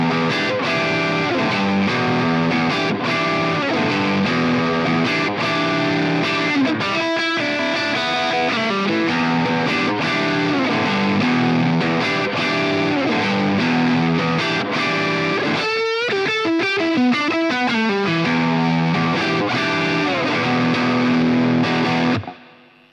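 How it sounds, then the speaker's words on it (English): Overdriven electric guitar through a small AMS Twister 5 amp with overdrive pedals and reverb, gritty distorted chords and single notes ringing out continuously, loud and close, before cutting off at the end. "And then we can start to add overdrives to it and the reverb doesn't flub out."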